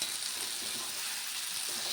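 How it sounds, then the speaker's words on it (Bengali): A vegetable curry fries in a pan, giving a steady, even sizzle that holds at a constant level throughout, soft and unbroken, with no talking. "তরকারিটা হলো পুরো ভাজা ভাজা"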